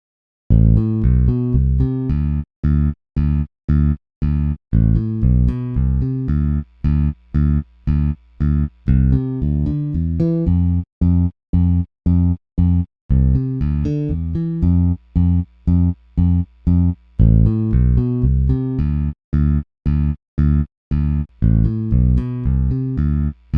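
A plucked bass guitar line through a noise gate in short, choppy notes, each cut off cleanly into dead silence between phrases, steady rhythm, no background hiss.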